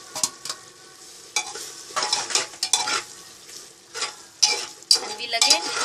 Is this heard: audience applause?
no